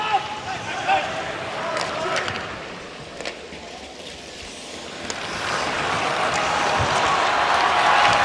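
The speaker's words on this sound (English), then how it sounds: "Crowd stirs" An arena crowd at an NHL playoff game between the Boston Bruins and Buffalo Sabres murmurs and stirs. The broad roar slowly builds louder toward the end, with a commentator talking over it.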